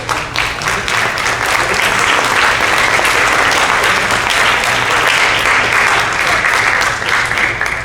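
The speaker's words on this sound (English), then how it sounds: "give her a big round of applause" An audience applauds at a school assembly, a dense, steady wash of clapping from many hands that holds at an even level for about eight seconds.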